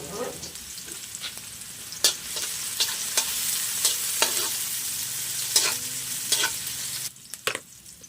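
Onion and garlic sautéing in a pan for ginisang repolyo, a steady close sizzle broken by several sharp spatula scrapes and clinks against the pan, no talking.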